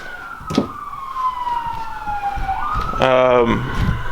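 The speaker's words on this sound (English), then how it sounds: "As sirens blare outside," A wailing siren sweeps downward outside, then a second siren with a rapid yelping pattern cuts in near the end, loud over background noise.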